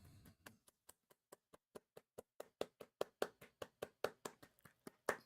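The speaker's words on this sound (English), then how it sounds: "Golf clap, everybody." A quiet, spaced-out golf clap, distinct single claps in a slow steady rhythm that gradually get louder, with no talking over them.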